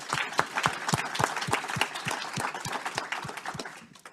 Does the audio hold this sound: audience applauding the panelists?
yes